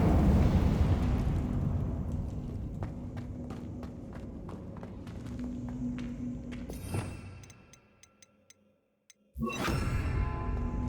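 A fire spell cast in the Hogwarts Legacy video game gives a sustained roaring whoosh that fades over several seconds amid faint ticking sounds, then a brief silence before another loud burst.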